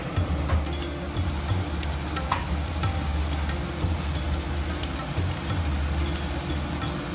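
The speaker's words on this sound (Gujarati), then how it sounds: "હલાવી લેવાનું છે ધીરે ધીરે." Asparagus and potato curry sizzling steadily in a pan while being stirred, a continuous close frying hiss with faint scraping and no talking.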